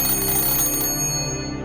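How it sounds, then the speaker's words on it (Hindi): A bright ringing tone sounds steadily, then cuts off, leaving a fading hum. "ये घंटी थी, मैंने ही बजाई थी।"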